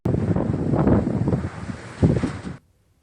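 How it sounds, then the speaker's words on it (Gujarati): Strong wind gusting across open country around the villages near Limbdi, roaring as steady broadband buffeting against the microphone, with a brief lull and another gust before cutting off abruptly. "લીંબડીના ભોઈકા, શિયાણી, ઘાઘરેટિયા, ભલગામડા, સૌકા, બોડિયા, બલદાણા, ટીંબા, સમલા સહિતના ગામોમાં જોરદાર પવન ફૂંકાયો"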